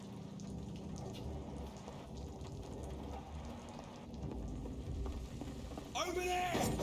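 Rain falls in the video game Vampyr as a steady hiss of drops on surfaces, with a low rumble underneath that grows slightly louder toward the end, while a voice talks over it.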